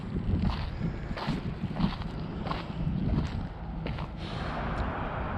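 Wind buffets the microphone beside the bay on Melbourne's coastal cycling trail along Port Phillip Bay, a steady rushing roar with gusty swells and a low rumble.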